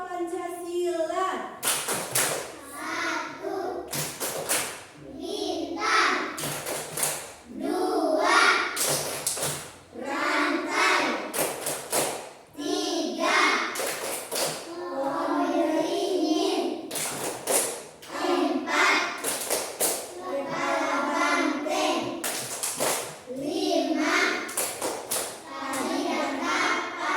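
Indonesian schoolchildren performing the Pancasila symbol clapping chant in a classroom, repeated group claps and thumps in a steady rhythm interleaved with chanted voices over a long stretch.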